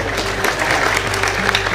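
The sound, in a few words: audience applause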